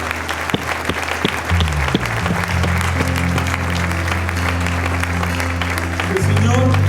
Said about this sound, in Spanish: Demos un aplauso al Señor esta tarde.